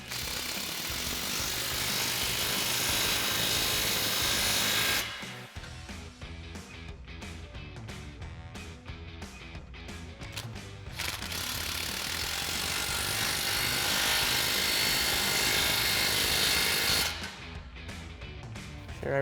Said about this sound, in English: we can again come in with our 15 mil socket on our impact and tighten down these